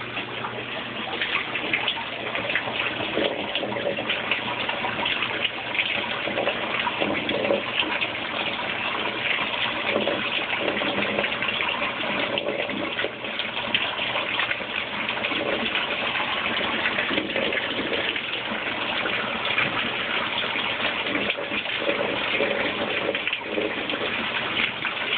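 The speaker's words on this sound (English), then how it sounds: "Now water's being added again." Water gushes steadily into a Kenmore Oasis washing machine as it fills, a loud, continuous rushing hiss with faint sloshing and no talk over it.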